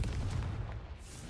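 A Confringo blast spell from a Harry Potter video game erupts in one loud, booming burst that rumbles and fades over about a second.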